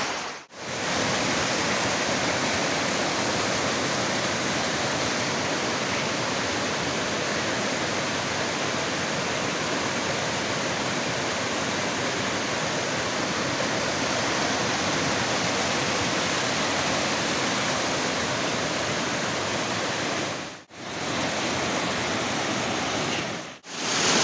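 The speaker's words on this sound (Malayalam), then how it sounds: "ഇത് വീണ്ടും വടക്കാഞ്ചേരിക്കടുത്തുള്ള മറ്റൊരു ചെറിയ ചോല, കല്ലമ്പാറ ചോല എന്ന് പറയും. മഴക്കാലത്ത് മാത്രം നന്നായി ആക്റ്റീവായിട്ട് ഒഴുകുള്ളൂ." Kallampara Chola, a small seasonal waterfall near Vadakkanchery, flowing hard in the monsoon: a dense, steady roar of rushing water that continues unbroken and loud, cut briefly by a short gap near the end.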